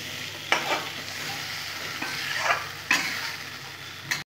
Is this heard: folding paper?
no